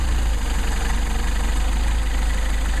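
A Mercedes 190SL engine with its carburetors under test idles at about 1,000 RPM, a steady, close, continuous rumble with an even pulse throughout and no talking.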